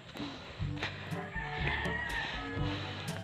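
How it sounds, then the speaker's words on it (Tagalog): Chickens clucking outdoors along a rural path toward Tagupak Falls, several birds calling intermittently at moderate distance, with other farm animal bleats mixed in and no talk. "Ayan mga manok."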